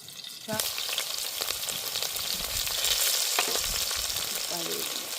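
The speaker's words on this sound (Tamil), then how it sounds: "எண்ணெய் வந்து நல்லா கொதிக்கட்டும்." Oil sizzles and crackles steadily in a hot pan, with occasional scraping and stirring clatter close by.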